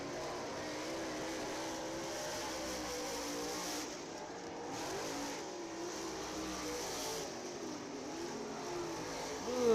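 Race cars roar around County Line Raceway as the C9 takes the green flag on lap one, a steady, loud engine drone with swells of revving that builds again at the end.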